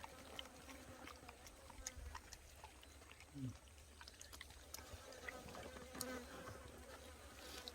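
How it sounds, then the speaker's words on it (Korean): Flies buzz faintly around wood-fired grilled semi-dried sea bass outdoors, with intermittent close passes in a quiet setting and occasional soft talk. "이게 이렇게 파리가 꼬여."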